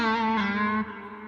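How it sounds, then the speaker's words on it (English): A sustained guitar note through a Line 6 Helix tape delay rings with a repeating echo, its harmonics smearing and degrading as the tail trails off softly. "So all I've done there is I've put in a little bit of delay."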